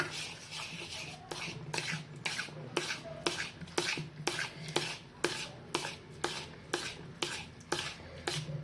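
Steady, rhythmic churning strokes, roughly two or three per second, with wet sloshing and scraping of buttermilk and a little added water in a vessel to bring up butter, close by and fairly loud throughout.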